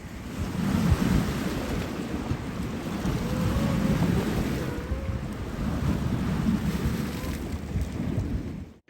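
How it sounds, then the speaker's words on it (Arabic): Ocean waves and wind at a beach at sunset make a loud, continuous rushing roar, with faint tonal sounds drifting underneath. "كان الجو مرة حلو، أمواج وهوا حلو ومنظر الغروب"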